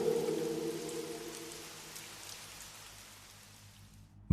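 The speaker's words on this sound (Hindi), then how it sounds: "बाहर तब बारिश की आवाज और भी गंभीर हो रही थी" Steady rain falling on a surface, a soft continuous hiss with faint patter, gradually fading before a sudden cut at the end.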